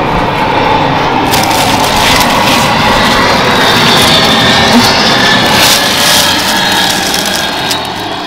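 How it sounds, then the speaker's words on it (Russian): A jet airplane flying overhead, a loud, sustained roar that holds steady and then eases slightly at the end, with no talking. "Вечные самолеты."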